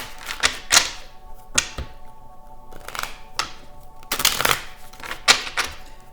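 A tarot deck is shuffled and cards are drawn and tapped down: crisp riffling bursts and sharp card snaps come in irregular clusters, close and fairly loud, with short quiet gaps between them.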